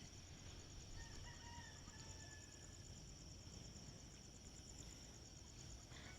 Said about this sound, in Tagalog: Maingay na yung mga manok.